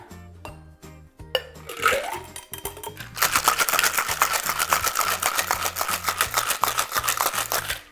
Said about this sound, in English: I'm gonna shake this up